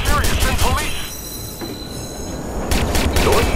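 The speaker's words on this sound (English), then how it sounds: "Southbound train, arriving shortly." A train pulls into a station in Watch Dogs, with a steady rumble and screeching wheels; the screech rises, fades briefly in the middle and then returns loudly near the end.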